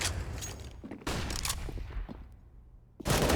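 Gunfire in Counter-Strike: Global Offensive during an ESEA intermediate match, players firing into B apartments: loud bursts of rifle shots and fusillades in the first three seconds, briefly quieting, then a fresh loud volley at the end.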